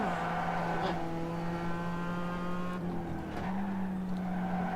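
A Mazda MX5 in iRacing on the Okayama Short circuit drifts through a corner, its engine droning steadily as the tires squeal, with a gear change and a fresh engine tone near the end.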